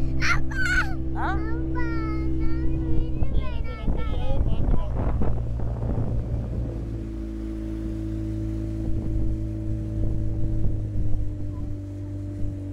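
A steady low engine drone runs throughout, like a motorboat ride on open sea, with wind buffeting and a few voices speaking over it, off Sri Lanka's coast near Koneswaram temple.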